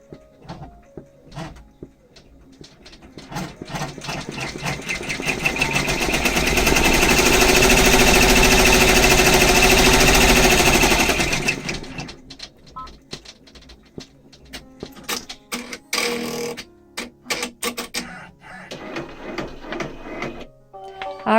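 An embroidery machine stitches out a design on scrap fabric for a table runner: a dense, rapid mechanical chatter that builds, holds loud and steady for several seconds, then stops, followed by scattered clicks and handling noises.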